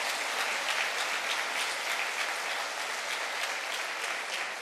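A church congregation breaks into applause, steady close-packed clapping from many hands that holds at an even level throughout, with no voices over it.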